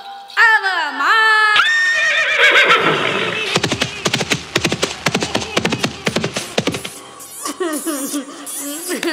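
A horse whinnies loudly and repeatedly in a village folk comedy drama, its shrill neighs followed by a rapid run of sharp clattering knocks, then more whinnying close by.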